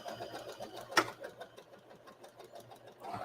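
A sewing machine stitches fabric for a heater bag, a rapid, even mechanical chatter with a sharp click near the start, fairly close and moderately loud, without talk.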